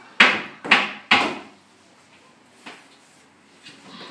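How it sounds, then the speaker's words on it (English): Three loud, sharp knocks on a wooden door in quick succession, followed by two fainter single knocks after a pause, with no voices. "Suddenly, there was a loud knock."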